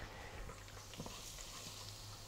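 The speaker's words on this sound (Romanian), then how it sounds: "Eu aici am încins uleiul și acum îi adăugăm usturoiul nostru și ghimbirul" Garlic and ginger dropped into hot oil for a Chinese-style sweet and sour chicken, a soft steady sizzle with a few brief crackles, faint and without speech.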